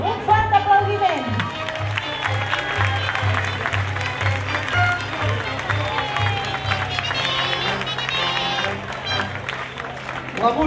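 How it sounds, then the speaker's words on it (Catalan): An outdoor crowd at a giants festival in Sallent claps steadily and warmly, continuous applause with scattered cheers and voices mixed in over a low hum, fading near the end. "Un fort aplaudiment!"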